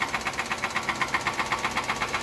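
A worn Nissan Sunny engine due for overhaul knocks at idle, a steady rapid ticking clatter repeating evenly over the running motor, close and fairly loud with no talking.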